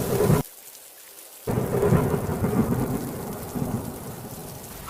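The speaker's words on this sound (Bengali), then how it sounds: "প্রচণ্ড বৃষ্টি হলো আর রামুর বাঁধে পানি জমে গেল।" Heavy rain with rolling thunder, a loud steady downpour that cuts out briefly near the start and then returns, continuing with deep rumbles and no voices.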